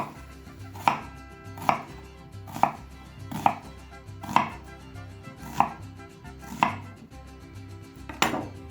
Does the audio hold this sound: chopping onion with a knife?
yes